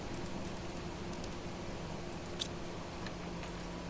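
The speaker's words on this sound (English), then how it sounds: "The rain noise is so loud now." Rain in the video game Planet Crafter, a faint continuous hiss with a steady low hum beneath and a couple of brief sharp ticks.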